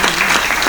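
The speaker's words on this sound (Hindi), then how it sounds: "एक बार जोर से ताली आप बजा दो" A comedy poetry show audience claps loudly and steadily in a brief, dense burst of applause.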